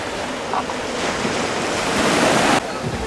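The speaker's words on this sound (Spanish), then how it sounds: "el oleaje es más tranquilo" Ocean waves wash onto a beach at Manzanillo, Colima, where the surf is calmer, a loud, continuous roar of breaking water with wind buffeting the microphone.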